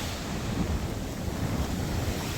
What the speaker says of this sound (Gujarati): જો આ છે અમારો ગામનો દરિયો